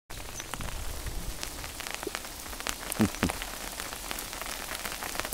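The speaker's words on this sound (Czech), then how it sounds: "Kroupy." Hail falls in a dense, steady patter of sharp ticks and clatters, with a few louder impacts near the middle, close and continuous with no talk over it.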